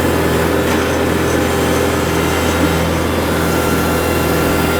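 A loud, steady engine drone from a 50 horsepower tractor mowing an open field with a front-mount rotary cutter, with a constant hum and high whine, unbroken throughout and close by.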